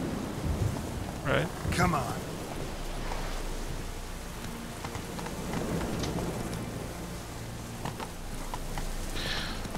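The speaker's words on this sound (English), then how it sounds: "Even though it's stormy as hell right now." Thunderstorm in The Witcher 3: Wild Hunt: steady rain hiss with rumbling thunder and a few sharp cracks, while someone speaks briefly over the storm.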